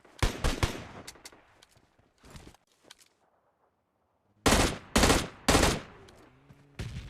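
Gunfire in a battle-royale mobile shooter game, loud close shots in quick clusters, a quieter gap, then several heavy single blasts with a faint tonal game sound at the end.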